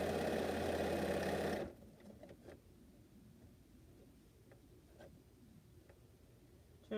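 Sewing machine runs in a short, loud, steady whirring burst while stitching a long quilt seam, then stops abruptly, leaving a quiet room with faint scattered ticks.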